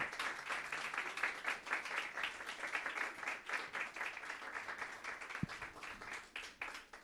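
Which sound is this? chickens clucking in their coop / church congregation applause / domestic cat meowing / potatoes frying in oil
church congregation applause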